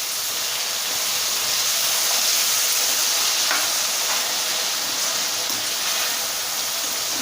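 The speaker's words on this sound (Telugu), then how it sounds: "వీటిని మంచిగా ఫ్రై అవ్వనివ్వండి" Eggplant, corn and tomato fry in a pan with a steady, close, loud sizzle and hiss, with occasional faint stirring clicks under it.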